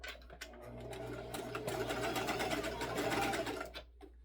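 A Jiasew sewing machine stitches along the original hem of jean fabric, a fast, steady mechanical chatter that speeds up and slows down over a few seconds, close and quiet.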